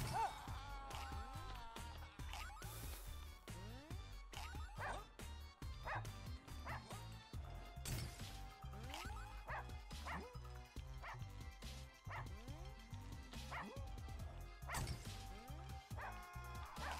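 Several dogs bark, yip and whimper loudly in a Russian subway, with continuous overlapping calls over rumbling station noise and brief crashes.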